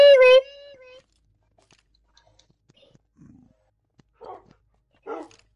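A dog in the video game Minecraft gives one sharp, close bark at the start, followed by quiet game sounds and a couple of softer, brief yips or growls later on.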